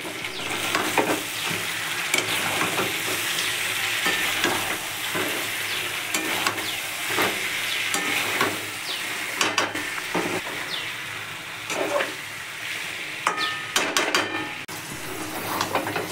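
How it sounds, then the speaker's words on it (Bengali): Chicken curry seasoned with garam masala sizzles steadily in a pan while a spoon scrapes and stirs through it, with repeated loud clinks against the metal over a constant frying hiss. "চিকেন কষানো হয়ে গেছে।"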